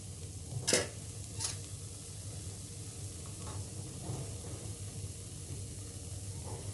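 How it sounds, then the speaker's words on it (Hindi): Soft steady sizzle of small button pizzas with onion and cheese cooking in a pan over a medium flame, quiet and continuous, with a couple of brief scraping stirs early on. "इसको भी हम 2 से 3 मिनट अच्छे से फ्लेम पे, मीडियम फ्लेम पे पका लेते हैं।"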